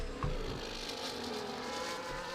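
F1 race cars in the F1 24 game at the Azerbaijan circuit, a faint steady engine drone along the back straight with a brief thump at the start, distant and continuous.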